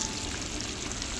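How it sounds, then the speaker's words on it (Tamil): Continuous bubbling sizzle of chicken legs frying in hot oil, steady and close, with no voices. "4 லெக்கையும் போட்டு பொரிக்கிறோம்."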